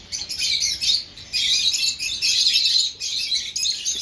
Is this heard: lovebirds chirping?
yes